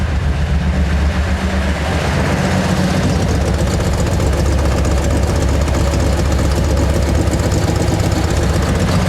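A rebuilt Datsun L28 inline-six engine idles steadily up close, a loud, even low rumble with a faint rhythmic tick and vibration running throughout, no voices.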